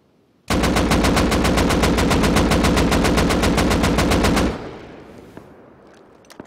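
Rifle in the video game Rust fired without a muzzle brake, a long unbroken automatic burst of about four seconds, loud and rapid, ending in a fading echo tail with no talk.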